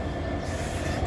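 Train at Alipurduar Junction station, a loud continuous rumble of railcars rolling past with faint wheel squeal, steady and close with no voices.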